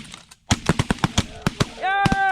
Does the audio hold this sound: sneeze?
no